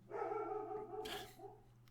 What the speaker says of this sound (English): my dog, of course, halfway through the recording